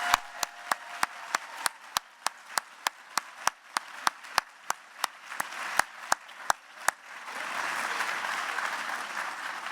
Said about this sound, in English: we can give you a round of applause